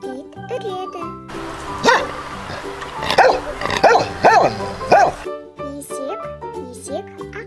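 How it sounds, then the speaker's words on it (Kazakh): A dog barks about five times in a quick irregular series, fairly loud and close, with background music playing underneath and before and after the barks. "Ит үреді."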